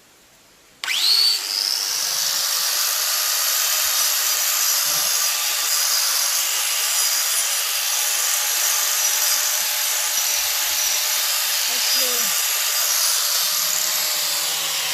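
An INGCO diamond grinding cup wheel on an angle grinder spins up sharply and holds a steady, loud high-pitched whine while grinding stone boulders, running continuously with slight fluctuations and no talk.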